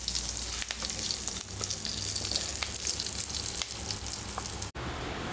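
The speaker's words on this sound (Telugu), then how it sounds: "ఇప్పుడు కరివేపాకు వేసుకొని స్టవ్ బంద్ చేసుకోవాలి." Curry leaves hit hot tempering oil for a brinjal cucumber chutney, giving a close, steady crackling sizzle that runs without pause, with a brief dropout near the end and no talking.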